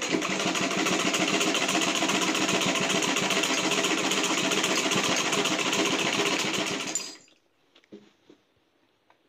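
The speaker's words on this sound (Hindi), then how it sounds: "जो तीसरी साइड का मैं सिलाई लगा रही हूँ, ये पूरी मेरी कंप्लीट होने वाली है।" A sewing machine stitches the third side of a quilt cover, a steady close mechanical whir with rapid needle pulsing that runs for about seven seconds, then stops abruptly into near silence with a few faint handling clicks.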